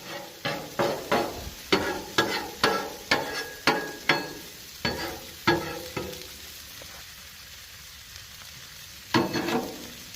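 Johnsonville hot Italian sausage and mozzarella cook on a Blackstone griddle with a steady sizzle, punctuated by a run of sharp metallic taps and scrapes in the first six seconds, then a quieter hiss and one final clatter.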